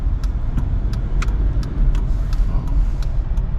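A DIY manual car converted to electric drive, pulling away in third gear from a full stop, gives a loud close low rumble of road and drivetrain with faint intermittent clicks and rattles, and no talk.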